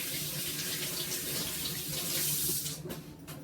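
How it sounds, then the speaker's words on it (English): Running tap water splashes steadily into a sink as hands are rinsed under the stream, a loud continuous close-up gush that cuts off near the end. "Alright, rinse off my hands."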